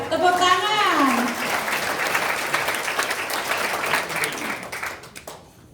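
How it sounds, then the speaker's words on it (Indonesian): Audience applause breaks out at a talk, a dense sustained clapping that fills the room, fading toward the end, with a voice speaking over the opening moments. "Tepuk tangan."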